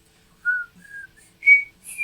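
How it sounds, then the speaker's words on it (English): A person whistles a short, high melody of a few sustained notes with brief gaps between them, clear and alone in a quiet space. "There's whistling involved here."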